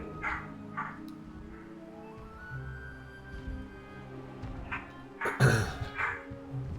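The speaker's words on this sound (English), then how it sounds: "I hear my dog freaking out in the background." A dog barking and yipping at home in the background, a few faint, distant barks scattered under a low hum, with a louder burst near the end.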